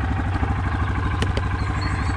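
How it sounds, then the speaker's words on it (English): A tractor's heavy engine runs steadily nearby on a dairy farm with a pulsing, clattering diesel chug, loud and continuous, with a couple of brief clicks partway through. "time to jump on the tractor and scrape these sheds"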